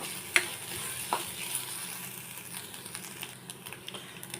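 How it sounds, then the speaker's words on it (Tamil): Grated coconut roasts and is stirred in a pan for Palakkad-style pumpkin erissery, a soft continuous crackle with light scraping and a couple of sharp clicks, fairly quiet with no voices. "அடுத்தது எடுத்து வச்சுருக்கிற தேங்காய் நல்லா வதக்கி எடுத்துக்கலாம்."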